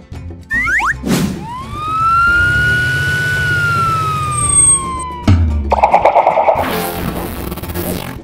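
A loud police car siren wails, sweeping up and slowly sliding back down, framed by brief clatters and a burst of noise at the end.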